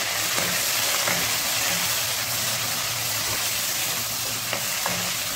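Capsicum and square-cut onion pieces frying in a pan for gravy chili chicken, a steady continuous sizzle with occasional stirring scrapes, close and fairly loud, no voices.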